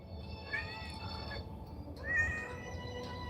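A house cat meows twice, the second call louder and more drawn out, over a steady low indoor hum with no talking.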